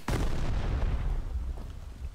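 A grenade launcher fires in the video game Farworld Pioneers: one loud, heavy boom bursts out and rumbles as it decays, and a fresh hit starts just at the end.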